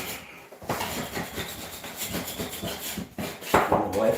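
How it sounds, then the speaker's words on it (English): Dried drywall mud splatters are chipped and scraped off a surface in a string of short, close rasping strokes with brief pauses between them. "let's chip off these drywall mud splatters"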